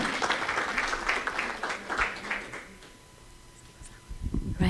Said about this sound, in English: another round of applause for Maureen